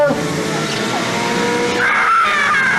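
An Alpine race car in the 1300cc final of the 1989 Le Faou autocross howls at sustained high revs, loud and steady, rising in pitch near the end, with an announcer talking over it.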